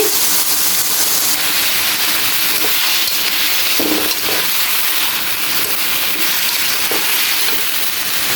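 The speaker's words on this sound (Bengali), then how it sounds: "আলু আর ফুলকপি কষিয়ে নিচ্ছি" Potatoes and cauliflower sautéing in a pan for a fish curry, a continuous hissing sizzle with a few scraping stirs, steady and close, with no talk.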